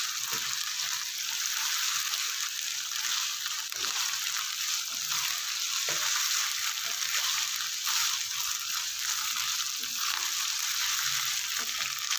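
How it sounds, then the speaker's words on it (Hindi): Chopped onion sizzles in a pan with minced mutton for dhaba-style keema, a steady bright crackle that runs without a break, with faint stirring clicks and no talking. "एक दरमियाने साइज़ का कटा हुआ प्याज ऐड किया है।"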